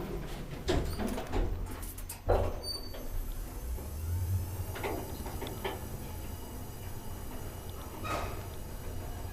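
An old Kone Sigma traction elevator's door slides shut quickly, with a few soft clicks and thuds over a steady mechanical hum in a small lift car.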